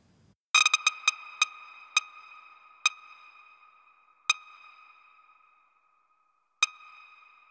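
Reverberated electronic pulses strike in a decelerating sequence, about nine sharp pings bunched tightly at first and then spreading farther apart, each ringing with a tonal tail, clear and isolated against silence.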